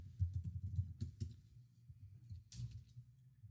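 Computer keyboard typing, soft irregular key clicks in short bursts with a pause, quiet and close, no speech over them.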